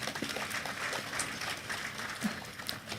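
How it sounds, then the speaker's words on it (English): Audience applause for the Vice President at a large conference hall event, a sustained wash of clapping at moderate distance, steady throughout the few seconds. "Please, a round of applause for His Excellency."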